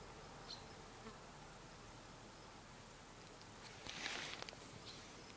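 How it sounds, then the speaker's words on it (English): A mosquito buzzing outdoors by a hillside pond, a faint thin whine hovering near the listener with a brief closer pass, alongside soft rustling. "A mosquito found me."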